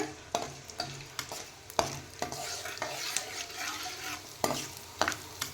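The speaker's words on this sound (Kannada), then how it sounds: "ಸ್ವಲ್ಪ ಸ್ವಲ್ಪ ಹಾಕ್ಕೊಂಡು ಫ್ರೈ ಮಾಡ್ಕೊಳ್ಳೋಣ" Edible gum frying in a kadai pan, added a little at a time: soft sizzling under repeated sharp scrapes and clinks of a spoon stirring against the metal pan, alone with no talk.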